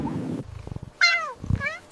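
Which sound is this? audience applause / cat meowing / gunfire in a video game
cat meowing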